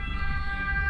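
An ambulance siren passes nearby, a loud tonal wail held steady over low rumbling traffic noise for about a second.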